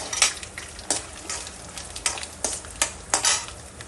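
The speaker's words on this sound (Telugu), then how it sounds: "అన్నీ వేగించుకోవాలండి" Dry spices toasting in a pan: red chillies, coriander seeds and cumin seeds, for homemade gongura pickle. Repeated soft scraping stirs with a light crackle and rustle, close and moderately quiet, no talking.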